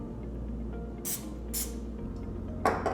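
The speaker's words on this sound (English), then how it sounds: "We're going to put some cooking spray on the bottom side of the fork." Two short bursts of aerosol cooking spray hiss close by onto a fork over a low hum, followed by a third brief spritz.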